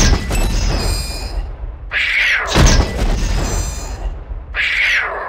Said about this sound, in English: The standard is your basic fragmentation grenade. Use a few to blast away at these little guys.